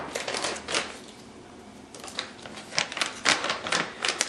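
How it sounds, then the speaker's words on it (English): Knife slicing through a 4-ounce block of Parmesan cheese in a home kitchen, giving a series of close, crisp cutting and crumbling clicks in uneven bursts, with no talking. "I'll do the cheese first because this is 4 ounces, so I can just cut it up and put it in."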